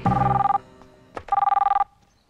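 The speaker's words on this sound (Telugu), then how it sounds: "మాట తర్వాత ముందు ఫోన్ వచ్చింది చూడు." A telephone ringing in a Telugu action thriller drama, two close, loud bursts of rapid electronic trilling tones separated by a short pause and a brief clunk.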